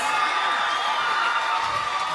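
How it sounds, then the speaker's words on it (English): Audience at a Berklee City Music scholarship award ceremony cheering and whooping for the recipients, a dense, steady crowd roar with scattered shouts, fairly loud throughout the short stretch. "Let's have another round of applause for our scholarship recipients."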